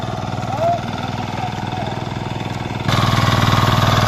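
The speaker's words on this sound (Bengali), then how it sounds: "আমার মামার সেই ছোট্ট মেশিনের কাজ চলছে দেখেন কীভাবে কাটা হয় এই মেশিনটা" A small farm machine engine runs steadily in a rice field, a continuous near chugging drone that grows louder and rougher near the end, with faint voices in the background.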